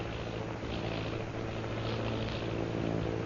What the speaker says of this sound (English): Sounding like airplane.